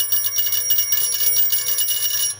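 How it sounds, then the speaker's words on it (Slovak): A magnet-driven bell on a Meccano model rings in a fast continuous metallic trill, close and loud throughout, with no speech over it. "Pekne nám zvoní."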